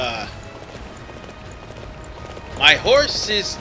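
A horse galloping in the video game Dynasty Warriors 9, a faint steady run of hoofbeats with a louder burst of horse sounds near the end.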